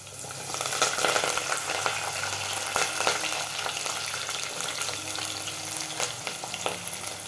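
Garlic, onion, green chili and curry leaves frying in a pan give off a dense, continuous crackling sizzle. It is close and fairly loud, with scattered pops and no voices.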